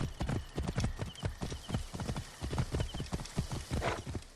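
A horse gallops in Assassin's Creed Origins, its hooves landing in a quick, regular clip-clop rhythm that stays close and steady throughout, with a short whinny-like sound near the end.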